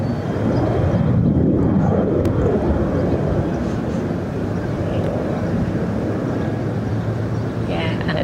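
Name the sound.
easyJet airliner taxiing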